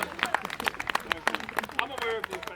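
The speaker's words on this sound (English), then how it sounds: "Let's give L'Oreal Viking a little round of applause because he's worth it." An outdoor crowd at a Viking day event gives a round of applause, with scattered, uneven clapping from a moderate number of people, some voices in the background.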